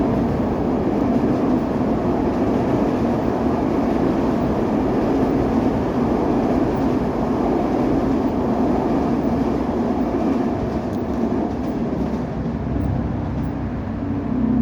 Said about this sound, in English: Train going by, said Mr. Pumblechook